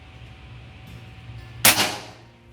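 A single sharp crack from an Umarex Gauntlet .25 caliber air rifle, close and loud, fired once amid quiet room hiss.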